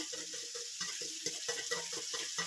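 Tomatoes with garam masala and grated garlic paste being stirred in a pan, a steady sizzle under repeated scraping strokes of a spoon, close and continuous.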